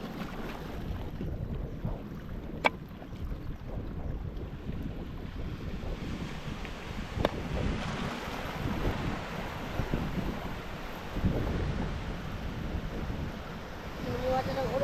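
Open-sea ambience of wind rushing across the microphone and waves slapping around a small boat, a steady rumbling wash with a couple of sharp knocks.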